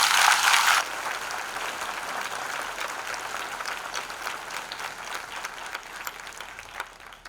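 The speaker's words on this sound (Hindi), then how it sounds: "आइए यीशु के लिए जोरदार ताली बजाएं।" Loud applause from an audience at a Christian worship gathering, starting with a burst of clapping and then settling into steady, slightly quieter clapping from a crowd that slowly fades toward the end.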